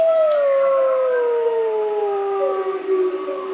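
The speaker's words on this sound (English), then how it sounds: "soon we hear a pup. That's a wolf pup." A wolf pup howls in the game WolfQuest: a single long, loud, drawn-out tone that slides gradually downward with rich overtones and wavers near the end, with no other sound around it.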